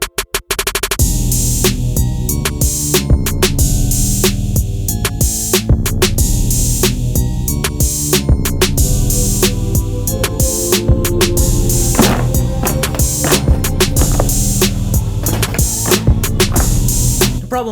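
A sewing machine stitches leather for a cosplay costume, loud rapid mechanical stitching runs with brief clicks and pauses between bursts, close to the microphone.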